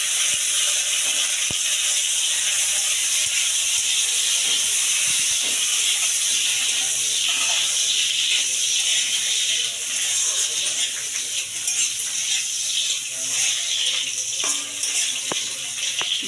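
Cashews frying in ghee with bay leaf, cloves, cinnamon and cardamom give a continuous bright sizzle and hiss, steady and close, with occasional small pops and faint clicks over the whole stretch.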